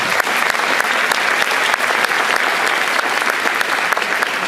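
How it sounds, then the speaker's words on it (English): Sustained applause from a concert audience at a high school winter band concert, dense, even clapping filling the room at a loud, steady level from start to finish. "Give them a round of applause."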